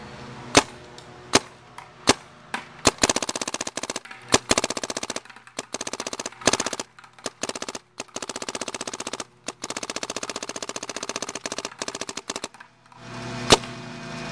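Dye DM5 paintball marker firing, first a few single loud pops spaced apart, then long rapid-fire strings of sharp cracks with short pauses between them, and one last single shot, close and clear with no talking.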